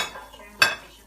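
Cooked meat with chopped cilantro is stirred in a pan, a brief close scrape of a utensil with one sharp clink partway through, soft and short, with no speech.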